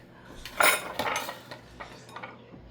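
Pots, pans and cutlery clatter and clink as they are rinsed at a kitchen sink while cooking breakfast, with several sharp knocks in the first two seconds and then softer clinks, all close by and without talk.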